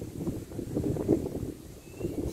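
Gusty wind buffeting the microphone, a low rumbling whoosh rising and falling over a couple of seconds, with no voices.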